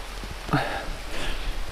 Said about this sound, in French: Regardez, il pleut.